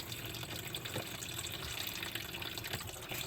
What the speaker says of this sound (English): I'm just going to let it drain down, and then I'll close the valve there.